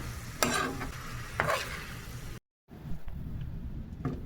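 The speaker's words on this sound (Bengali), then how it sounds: "সবগুলো একসাথে আর একটু ভাজবো।" Meat and chopped potatoes fry together in a pan with a soft sizzle, punctuated by a few scraping stirs, with a short silent gap midway before the quiet frying resumes.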